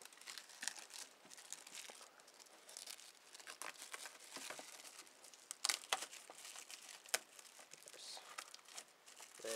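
Plastic wrapping crinkling and tearing close up as a PS3 Borderlands game is unboxed, a steady crackling with a few sharper snaps, while a person speaks briefly and quietly.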